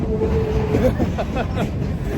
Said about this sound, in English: These two Alaska F units are definitely a train that they're hauling